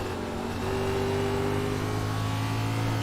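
Stock car engine at New Hampshire in a sim racing game, heard from the cockpit as a loud steady drone with a held high tone, briefly surging, without talk.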